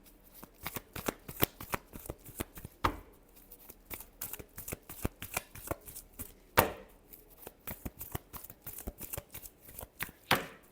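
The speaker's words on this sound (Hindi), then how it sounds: "last shuffle" Tarot cards shuffled by hand in rapid repeated riffles and slaps, close and crisp, continuing rhythmically throughout with only a faint hint of voice.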